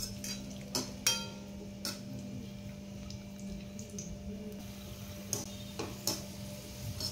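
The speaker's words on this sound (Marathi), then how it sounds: "मनुके देखील आपल्याला एकसारखे हलवून घ्यायचे आणि व्यवस्थित तळून घ्यायचे।" A spoon stirs raisins frying in a pan, giving occasional sharp clinks and scrapes of metal against the pan over a quiet, steady background.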